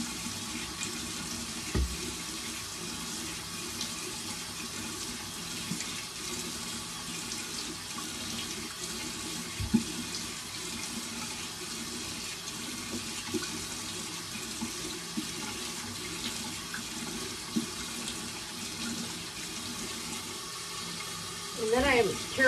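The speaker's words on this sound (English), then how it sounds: "I am careful to rinse both the brush and my face really well with really warm water" Warm water runs steadily from a bathroom tap while a face and a facial cleansing brush are rinsed: a close, continuous rush with small splashes, ending in a brief louder spatter.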